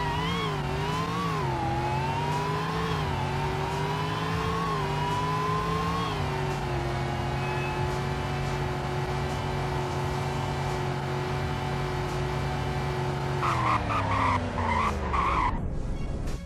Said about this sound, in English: Here's a 0 to 100 in braking test.